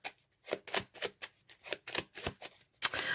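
Tarot cards are handled, shuffled and laid down on a table in a series of close, crisp riffling and slapping bursts with short pauses between them, followed by a brief scrape.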